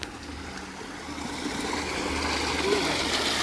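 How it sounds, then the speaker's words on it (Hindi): Water flowing into a stone pond (kund) at a hermitage in Chitrakoot, India. It is a steady broadband rush that swells gradually and stays loud and continuous. "अच्छा ये कुंड, ये पानी आ रहा है।"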